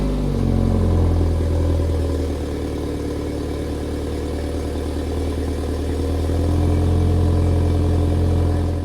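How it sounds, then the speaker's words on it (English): BMW B48 four-cylinder engine on a cold start, running at a loud, steady high idle with a low drone, easing down slightly midway and rising again near the end, with no talking. "I think it's time for a B48 cold start."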